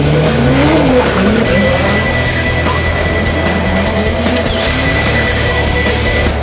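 Cars drift on an Osaka street with Team Burst, tires squealing in long wavering screeches over the steady drone of revving engines, loud and close throughout.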